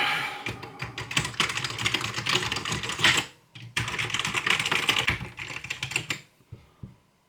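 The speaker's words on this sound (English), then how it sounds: "Keyboard works." Fast typing on an Amiga 1200 computer keyboard during a test, close and crisp clicking in continuous bursts with a brief pause midway before tapering off.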